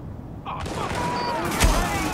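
Gunfire rattles in the video game The Division, a dense burst of shots with a heavier boom near the end, loud and close over a busy game soundscape.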